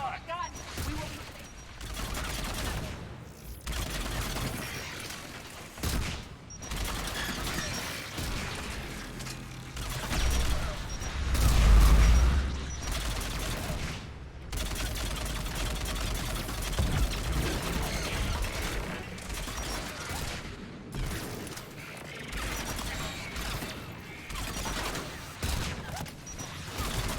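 A big gun firing repeatedly during a Mass Effect 3 combat scene, heavy booming blasts and dense gunfire rolling across the whole stretch with one especially deep thump midway, mixed under shouted dialogue.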